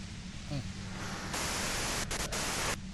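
Hissing white-noise static in the video game Disco Elysium, a broad steady wash that jumps louder about halfway and briefly drops out in a few quick gaps before the end.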